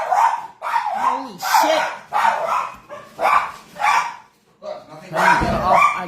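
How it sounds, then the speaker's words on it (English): An excited dog barks over and over in quick, loud bursts close by, with a person's startled exclamation mixed in. "I'm trying to say bye to you guys, and I can't because this dog's fucking crazy"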